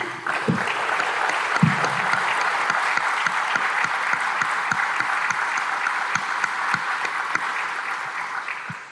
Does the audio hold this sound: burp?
no